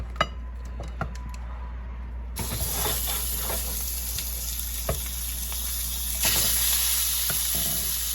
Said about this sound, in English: I'm going to put that in the crock pot and sear the rest.